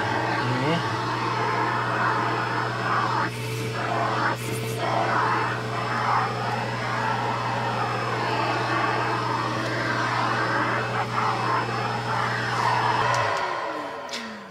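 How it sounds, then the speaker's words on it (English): A pet grooming kit vacuum runs on its lowest setting while a cat is brushed indoors, a steady whirring hum that holds for about thirteen seconds before cutting off, with a few faint handling noises. "So that was level 1 of the vacuum. It's pretty quiet."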